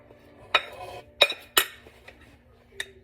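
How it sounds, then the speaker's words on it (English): Dry mixture for homemade pasta being added to a big bowl of wet ingredients, heard as three or four sharp clinks of a utensil against the bowl, close and clear with quiet gaps between. "now, a little at a time, we'll start adding the dry mixture in here"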